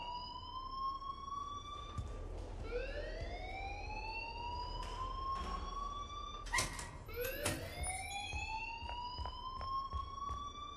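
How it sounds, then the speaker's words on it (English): In the video game Life Is Strange, a siren-like alarm wails in repeated rising sweeps, steady and continuous, with brief clattering bursts in the middle and no speech. "please turn off that alarm"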